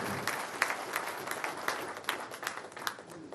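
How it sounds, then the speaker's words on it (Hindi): Steady clapping from an audience of Panchayati Raj representatives at a BJP state-office workshop, with dense, even hand claps and a few louder sharp claps standing out, no talk over it. "द्रौपदी जी के लिए आपको जोरदार तालियां बजानी"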